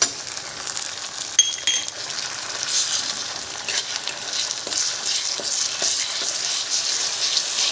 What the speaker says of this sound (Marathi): हे पण एक 2-3 मिनिटं छान परतून घेऊ